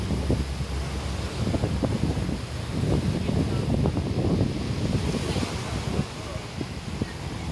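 Open-sea waves at Sai Wan, Hong Kong, wash steadily against the shore, a continuous rushing surf mixed with gusty wind buffeting the microphone throughout.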